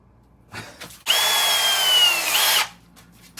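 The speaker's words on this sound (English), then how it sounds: "now our next option is drilling it out." A power drill boring out a part on a Dodge van, one loud continuous whine lasting about a second and a half, close by, with light clicks and handling noise before and after.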